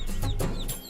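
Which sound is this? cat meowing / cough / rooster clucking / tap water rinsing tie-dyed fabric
rooster clucking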